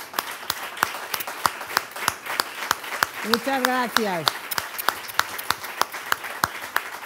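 A small audience at a public meet-and-greet event claps in sharp, evenly spaced bursts of applause that keep going throughout, while a voice speaks briefly over the clapping midway.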